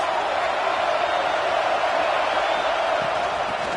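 A college football stadium crowd sustains a dense, loud roar against the Boston College offense, a constant wash of noise with no breaks.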